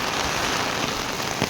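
Heavy monsoon rain pours steadily near Kamshet on the trekking route toward Bhimashankar, a dense, even hiss of drops hitting surfaces with no pauses.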